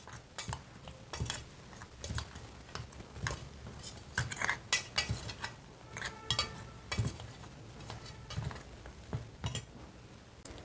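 A spoon clinks and scrapes against a cup while powdered milk is stirred into tea, a series of sharp, close metallic taps and rattles in irregular bursts, with no talking.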